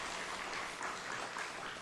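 A church congregation gives a short, steady round of encouraging applause, a soft, even wash of clapping heard from a distance with no voices over it.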